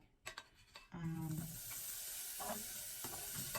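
Ham dropped into a hot pan with no added oil: a few clattering knocks, then an immediate, steady, bright sizzle that holds to the end, close and fairly loud.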